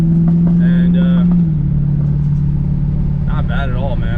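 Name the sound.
Mopar car driving ahead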